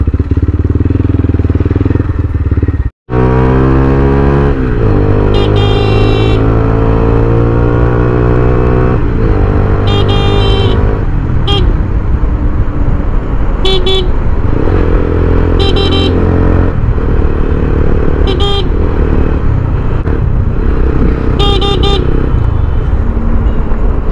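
A Taro GP motorcycle runs steadily and loudly throughout a short ride, engine pitch rising and falling with throttle changes, a brief cut near the start, and several short horn-like toots breaking through at intervals.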